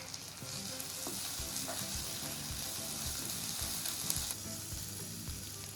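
Vegetables, including carrots, sizzling and frying in a hot pan, a steady bright crackle with occasional stirring scrapes and clinks, close and continuous, with no talk.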